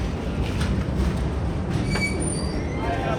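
The Secunderabad–Jammu Tawi Humsafar Express pulls into Kazipet Junction with a steady, close rumble of wheels on rails, faint squeals rising over the continuous rolling noise.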